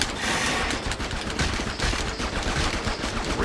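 Rapid gunfire in the Attack of the Movies 3D shooting game, blasting at a scorpion: a dense, continuous barrage of shots packed tightly together, loud and unbroken throughout.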